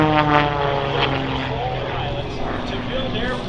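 A radio-controlled Pitts aerobatic airplane drones steadily at an air show, its engine tone holding fairly loud and constant with slight pitch wavering, while a voice talks over it.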